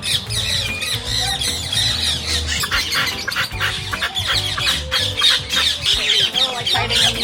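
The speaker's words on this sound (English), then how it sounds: "They have nearly 150 birds of 26 species, including conures, kikees, and of course, parakeets." Parrots at a Caribbean aviary, conures and parakeets among them, squawk and screech constantly in a loud, dense chorus of overlapping shrill calls, with voices mixed in underneath.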